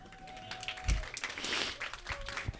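An audience claps for the filmmakers at a documentary screening, a scattered, moderate round of applause in a room with a faint tonal hum beneath.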